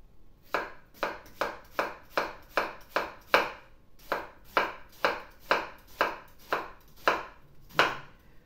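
A knife chops an onion on a board in a steady run of about fifteen crisp, evenly spaced strokes, close and clear, with one short pause partway through and no talking.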